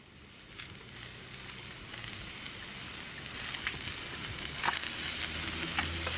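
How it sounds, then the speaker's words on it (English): Chopped peppers sizzle steadily in a frying pan over an outdoor twig stove, a close continuous crackle with occasional sharper pops that grows slightly louder. "Let's throw them into the frying pan, get them cooking away."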